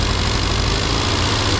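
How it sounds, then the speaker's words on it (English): A classic Mini Cooper RSP engine idles steadily at 1500 RPM after a distributor tweak, a close, continuous low rumble with an even, uninterrupted throb and no voices. "And we're at 1500 RPM, so that looks better and it sounds better"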